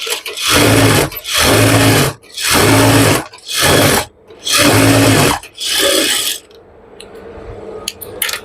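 Sewing machine topstitching a pant-system pajama seam, running in six loud whirring bursts separated by short pauses, then falling quiet with light handling noise.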